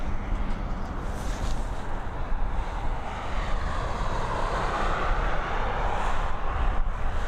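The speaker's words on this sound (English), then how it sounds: "It's an Airbus A320neo. It's a year old, first registered February 2022. Here she goes." Steady, loud roar of an Airbus A320neo jet taking off from Dublin Airport on runway 10R, a broad sustained engine rumble that holds constant throughout, heard from a distance outdoors with no talk.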